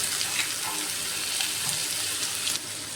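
Ginger, chili and garlic paste frying in hot oil with cumin and asafoetida, a loud, steady close-up sizzle that holds evenly for the whole stretch with no talking.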